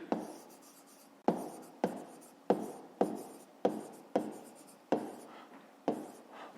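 Writing out a maths solution by hand, a run of about nine separate pen or chalk strokes, each a sharp close scratch that fades quickly, in a quiet room without speech.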